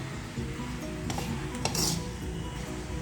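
Desiccated coconut being mixed into gujiya filling in a pan, with steady utensil scraping and clinking against the metal, a few sharper clinks standing out, no talking.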